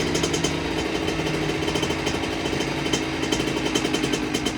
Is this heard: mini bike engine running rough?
yes